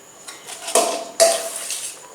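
Utensils clatter against a biryani pot as the remaining rice goes into hilsa biryani, two sharp close metallic knocks with scraping and shuffling between them, loud and without talk.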